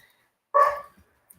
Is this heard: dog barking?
yes